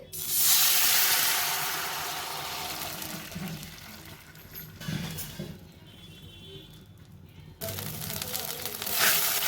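A loud burst of hissing and sizzling as water hits leftover hot ghee in a kadai, settling into a softer sputter that flares up again toward the end.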